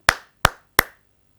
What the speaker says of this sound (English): 3 claps.